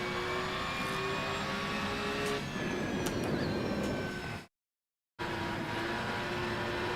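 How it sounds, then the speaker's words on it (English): A race car engine in a racing video game, with a drivetrain whine that sounds like a diff, a steady high-pitched drone with shifting tonal harmonics that cuts out briefly before resuming. "Car sounds terrible. Sounds like I'm just driving a diff."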